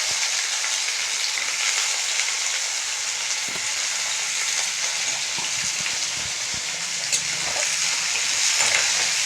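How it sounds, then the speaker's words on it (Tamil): Small brinjal pieces frying in sesame oil, a steady close sizzle that holds evenly throughout with a few soft clinks of utensil against the pan. "போட்டு இந்த நல்லெண்ணெயிலே நல்லா ஒரு 5 நிமிஷத்துக்கு நல்லா வதக்கி கொடுத்துடணும்."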